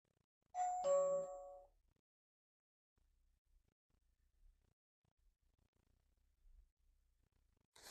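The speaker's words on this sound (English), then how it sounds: "I'm just going to turn that chime off because I don't want that constantly going off" Hikvision AXPRO M2H alarm panel chime set off by tilt detection: a single bright two-tone ding-dong, close and clear, followed by near silence and faint room noise.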